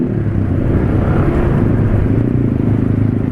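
A car engine revs as the throttle opens while driving on a rough road, its steady, loud low rumble rising slightly and holding throughout, with no other sounds standing out.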